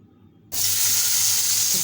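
Roe-filled pabda fish dropped into hot oil, bursting into a sudden loud, steady sizzle after a brief quiet moment, close up.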